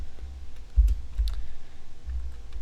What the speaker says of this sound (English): Sorry if I'm typing a little bit slow.